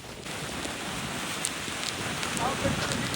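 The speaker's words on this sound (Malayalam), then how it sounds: "ഈ മഴ വീണ്ടും പെയ്തു തുടങ്ങി" Steady patter of rain with some wind buffeting the microphone, continuous and moderately loud throughout.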